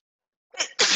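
A single sharp sneeze, close and loud, with a quick intake of breath right before it.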